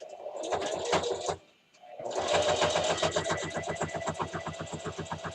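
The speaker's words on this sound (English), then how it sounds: "So let's go back to the sewing machine." A sewing machine stitches around a quilted pot holder in fast, rhythmic, close mechanical bursts. It pauses briefly, then runs steadily again.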